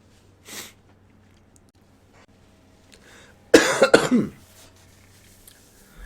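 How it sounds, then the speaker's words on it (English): A single short fit of coughing, two or three harsh close bursts from someone with a mild cold, breaks an otherwise quiet moment. "I'm still gonna have like a little bit of a cough today"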